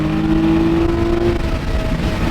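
A Nissan Z accelerates at full throttle in third gear, its engine roaring loud and close from the cabin with a rising droning tone that holds steady throughout.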